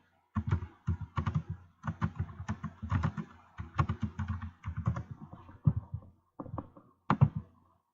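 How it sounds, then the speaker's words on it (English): Rapid bursts of computer keyboard typing, close and fairly clear, arriving in quick clustered runs of keystrokes separated by brief pauses, with no talking over them. "I'm going to type it out."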